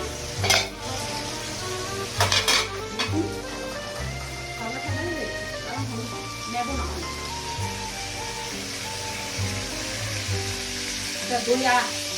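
Boal fish sputters and sizzles loudly in hot oil in a pan once the lid comes off, a dense frying hiss with a few metallic clatters of the lid, while a voice talks over it.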